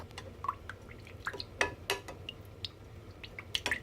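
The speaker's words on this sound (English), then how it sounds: "I like to stir things up, make sure it's all melted." A utensil stirs melted homemade lotion ingredients in a container, making soft liquid clinks, small taps and wet drips in an irregular, close pattern with no talk.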